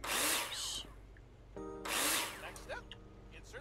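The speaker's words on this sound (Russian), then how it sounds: "Нам нужно выбрать перфоратор, который дрель." A power drill whirs in the video game PC Builder Simulator during a house-building stage, in two loud bursts separated by a short electronic tone and quieter handling sounds.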